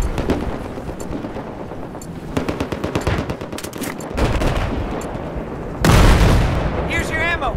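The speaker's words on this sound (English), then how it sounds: "It was a guy shooting from their spawn side" Gunfire in the Battlefield 4 video game during a close-quarters multiplayer match: dense, rapid machine-gun bursts and scattered shots from nearby, with heavier booms and a loud blast toward the end, and some voices mixed in.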